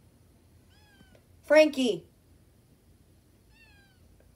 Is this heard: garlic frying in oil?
no